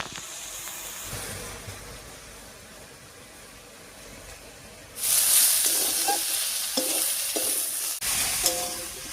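Dhenki greens with onion and salt cooking down in a pan, a soft simmer that jumps to a bright, loud sizzle and hiss halfway through, with a few stirring knocks.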